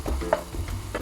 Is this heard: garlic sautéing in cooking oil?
yes